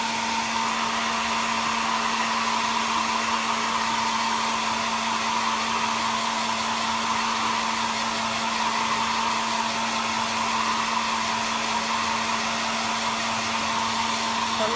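A hair dryer blows on paint on a snowman painting with a steady, loud, unbroken whir and hum from start to finish, and no voices are heard.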